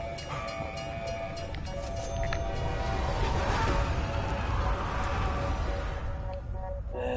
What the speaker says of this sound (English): After surviving so much, getting hit by a train.